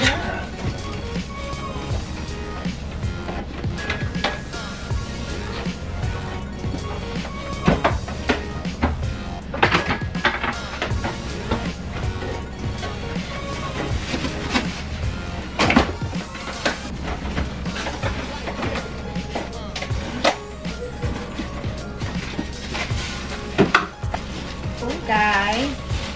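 Cardboard and packaging handled while a new Rovsun stand mixer is unboxed from a white box in a home kitchen, with continuous rustling, thumps and sharp knocks, close and fairly loud, and a person speaking at times.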